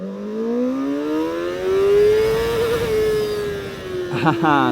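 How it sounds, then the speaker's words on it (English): CFMoto 500 SR motorcycle revving hard in first gear, the engine note climbing steadily in pitch for several seconds, loud and close, with a sharp shift or throttle change near the end. "So just now I tried to go as fast as possible in the first gear"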